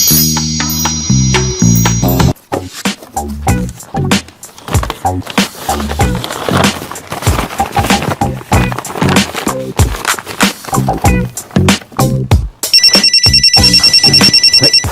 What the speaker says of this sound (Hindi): फोन किसका आ गया?